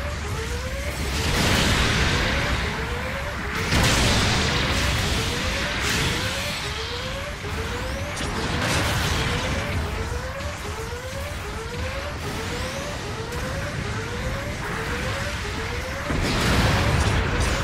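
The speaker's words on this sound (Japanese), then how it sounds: "後方部隊からの支援砲撃が来ます" Support artillery barrage striking in the mobile suit game Gundam Battle Operation 2: a steady run of loud, booming blasts with repeated whistling streaks of incoming shells, continuous and dense, with no voices.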